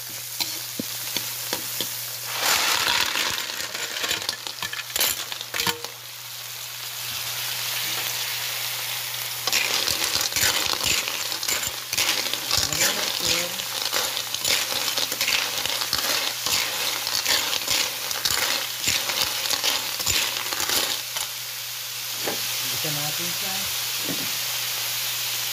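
Clams in their shells sautéing in a pan with Sprite, a loud steady sizzle broken by rattling, scraping stirs, with a constant low hum underneath.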